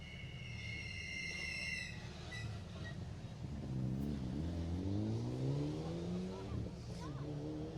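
Mitsubishi Evo rally car, number 38, at the Jersey Rally, its engine revving and rising in pitch as it pulls away nearby, over a steady background rumble and crowd noise.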